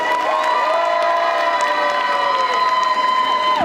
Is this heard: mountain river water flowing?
no